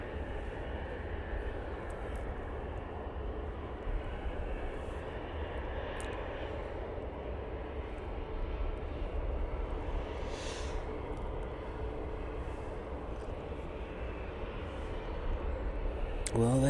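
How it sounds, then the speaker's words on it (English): An Emirates airliner taxis at Manchester Airport, a faint, distant, steady jet engine whine over broad outdoor rumble, heard alone without talk. "Emirates is on the taxi out now"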